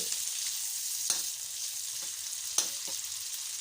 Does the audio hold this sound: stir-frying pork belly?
yes